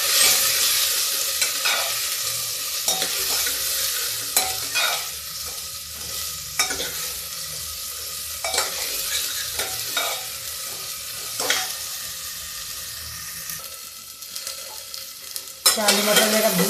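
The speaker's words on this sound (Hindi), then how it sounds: "इसी में हम आलू मटर भी डाल देते हैं। ये देखिए, थोड़ा सा ये भी भून लेते हैं।" Potatoes and peas frying and being stirred in a pan with cumin, a steady close sizzle with repeated spatula scrapes and clicks throughout, no talking.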